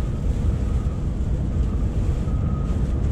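Strong wind buffets a microphone on the Dartford Crossing bridge near London, a dense, steady low roar with gusty fluctuations throughout and no voices.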